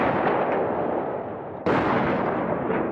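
Continuous heavy rumbling barrage of World War I artillery fire at the Battle of the Somme in 1916, dense and loud throughout with a sharp step up in intensity midway, no voices.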